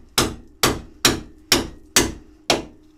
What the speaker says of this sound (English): Now I just need a ball joint splitter to split the ball joint from the hub.